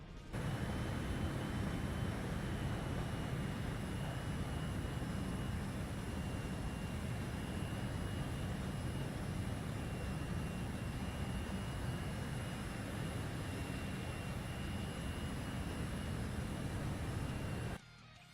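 A jet aircraft in a video game dogfight match, heard as a continuous, even engine drone that stays steady from start to finish, with no talk over it.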